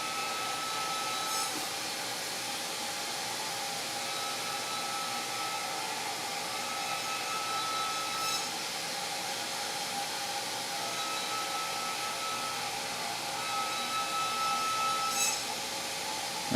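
BenchPilot CNC router cutting a drawer box with a second depth pass, skimming near a dado: a steady, continuous high whine of the spindle and cutter held at even loudness throughout, with brief brighter swells as the bit engages.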